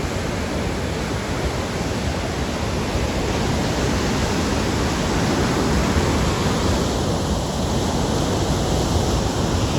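Fast-flowing water rushing at a dam, a steady, loud, broadband roar that holds constant throughout with no voices.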